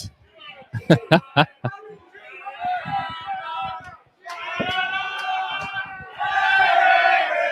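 Crowd at a rugby league grand final at night erupting in loud cheers and shouts in repeated surges, with sharp claps and whistles early on and a commentator's voice over the noise.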